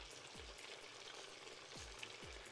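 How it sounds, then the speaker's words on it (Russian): Meat frying in a pan, cooked in batches, giving a quiet, even sizzle that stays low and continuous at close range. "Теперь закидываем мясо. Обжариваем тоже партиями,"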